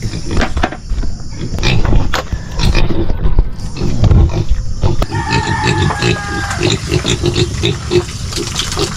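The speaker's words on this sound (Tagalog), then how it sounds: "Yan, pakainin natin mga baboy" Pigs squeal, grunt and snort loudly and continuously at close range while being fed azolla mixed with medicine, with a person talking over the noise.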